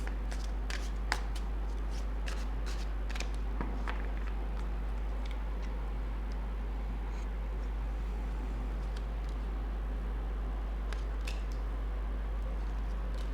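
Tarot cards are shuffled by hand in a quiet room, giving a run of soft, close riffles and flicks in irregular bursts over a low steady hum, with no talking.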